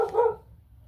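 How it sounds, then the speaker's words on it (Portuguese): A single dog bark at night, close and fairly loud, cuts in sharply and fades within half a second, leaving a quiet background. "o cachorro latiu"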